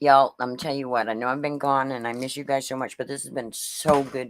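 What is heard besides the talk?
No everyday noises stand out.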